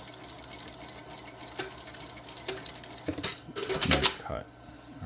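A sewing machine back stitches over an existing seam on a sukajan jacket, with a steady rapid whir of stitching that grows louder and busier near the end.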